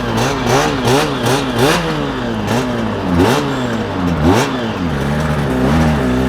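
A Suzuki RG500 motorcycle on a night ride, heard onboard with its engine revving hard through repeated climbs in pitch and quick gear changes, loud, close and continuous.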